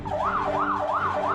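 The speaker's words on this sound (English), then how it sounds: "This is how you operate the siren." A Force Gurkha firefighting and rescue vehicle sounds its siren, a loud, close wailing tone sweeping up and down in a fast, regular cycle about three times a second.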